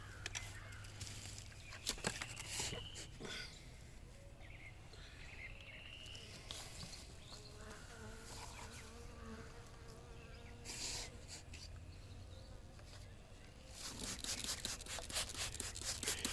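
Honey bees buzzing steadily while being fed, a soft continuous drone of many insects with occasional closer passes and light rustles, fairly faint throughout.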